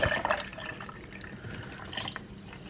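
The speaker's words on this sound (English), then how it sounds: "I'll just top this off with some water" Water runs into a pitcher holding a red raspberry leaf tea mixture with cran-pineapple juice, a short splashy pour loudest at the start and then a steady, softer trickle.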